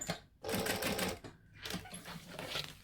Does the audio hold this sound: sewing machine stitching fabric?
yes